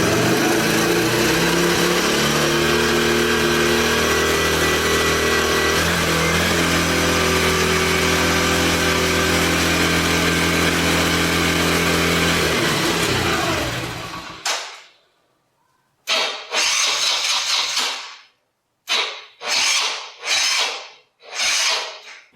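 A four-wheeler ATV that only runs on choke is cranked on a dead, weak battery, giving a long, loud grinding, labored cranking that stops, followed by several shorter sluggish cranking bursts separated by silences.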